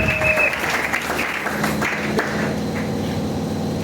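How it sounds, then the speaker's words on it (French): A church congregation at a Sunday thanksgiving service applauds, a dense wash of clapping that starts loud and gradually thins and fades, with no distinct cheering voices standing out. "Acclamons très fort pour notre Dieu."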